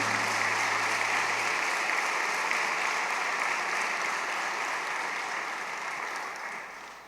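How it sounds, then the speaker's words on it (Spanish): A church congregation gives loud applause to the Lord Jesus, with sustained dense clapping filling the hall for several seconds before gradually easing off toward the end. "Le damos un fuerte aplauso al Señor Jesús."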